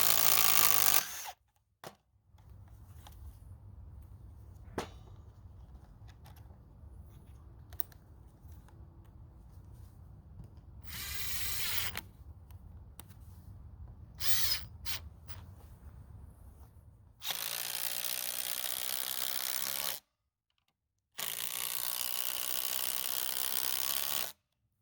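A compact impact driver, a D.I.Y. or prosumer model, drives small screws in loud rattling bursts between stretches of quieter background noise, with two long harsh runs near the end.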